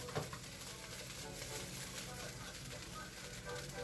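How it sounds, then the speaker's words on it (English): Fried rice being stirred in a pan, a steady low sizzle with soft scraping throughout, fairly quiet and continuous. "Give this a nice stir."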